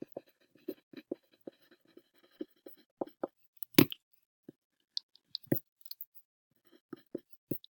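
A pen draws a tree diagram for a probability problem, making short, intermittent scratches and taps close to the microphone, with quiet gaps between the strokes.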